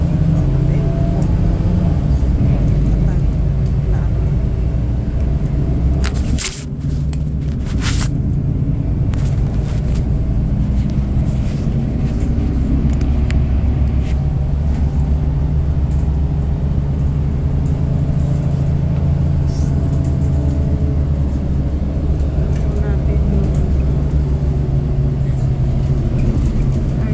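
Steady rush-hour road traffic heard from inside a vehicle, a constant loud low engine and road rumble with a few brief bright clatters near the start and no pauses throughout.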